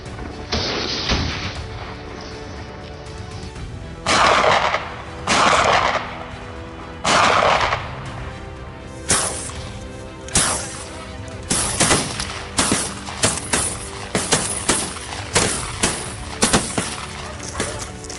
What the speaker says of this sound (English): a cold, precise shot into the air